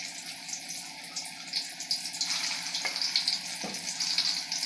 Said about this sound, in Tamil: இப்போ நம்ம இதை எண்ணெயில் போட்டுடலாம்.